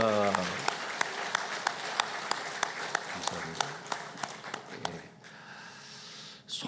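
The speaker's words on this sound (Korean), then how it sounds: "우리 다시 한번 하나님께 모든 영광 큰 박수를 올려드립니다" Church congregation clapping together in a rhythmic, evenly spaced beat, sharp repeated claps at moderate volume that fade out near the end, with a preacher's voice over the top.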